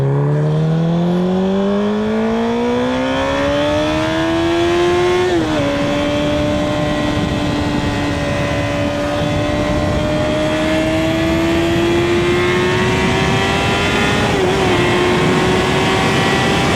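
Motorcycle cruising on a Memphis road, a loud steady engine hum climbing in pitch through gears with a brief shift dip, heavy wind noise close and constant throughout.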